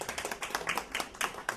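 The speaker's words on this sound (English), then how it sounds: "Clap loud if you thought she was lying." Scattered, light clapping from an audience at a live story slam, a thin smattering of a few pairs of hands with uneven claps at moderate distance, fairly quiet and with no talking.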